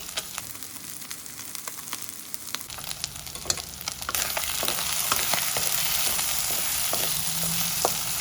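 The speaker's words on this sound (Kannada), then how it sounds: "ಲೋ ಫ್ಲೇಮಲ್ಲಿ ಇಟ್ಕೊಂಡು ಫ್ರೈ ಮಾಡ್ಕೊಳ್ಬೇಕು" Sheep brain, boiled, cut and coated with masala, salt and turmeric, fries on a low flame in a pan, giving a soft, steady sizzle with occasional crackles and stirring scrapes close by.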